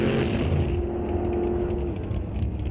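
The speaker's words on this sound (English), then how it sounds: "Chevy gets off the line clean." Chevy drag race car launching off the line at a drag strip, a loud, rough engine roar that holds steady for a couple of seconds and then eases away.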